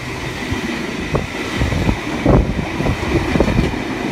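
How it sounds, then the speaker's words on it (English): A passing train at Burwood station fills the scene with loud, close rumbling, punctuated by repeated clacking wheel-over-joint thumps. "We've got another train passing as well."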